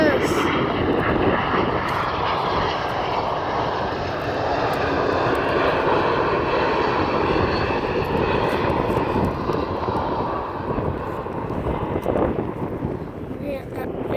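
Steady, loud roar of airplane engines landing at an airport, heard continuously with wind buffeting the microphone for the whole span.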